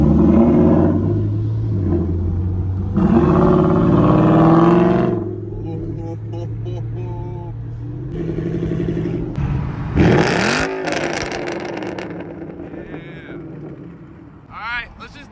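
A Chevrolet Camaro ZL1 revving hard on a road pull: a loud, deep engine roar that climbs and falls, then settles into a steady drone with shifting pitch, with people talking over it.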